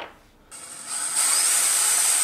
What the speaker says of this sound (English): The solution that I came up with was to drill out the M3 tapped threads and retap them to M4.